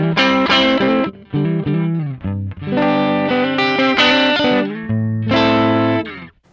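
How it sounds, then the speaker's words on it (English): Electric guitar played through an amp-style drive pedal set for a clean-ish Fender Twin-like voicing, strummed chords and single notes ringing with a mild overdriven edge, loud and alone. "You can have it sound like a Fender Twin by backing off the drive and changing up the voicing."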